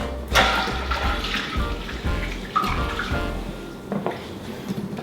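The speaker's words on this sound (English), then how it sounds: "I'm just going to take the juice, pour it in." Thick, syrupy juice for a peach mango cider kit pours steadily into a container close by, a continuous splashing gurgle that runs without a break.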